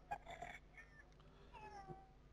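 A cat meows in a short recorded animal sound played back from a Google search, faint and thin, with two or three brief tonal calls.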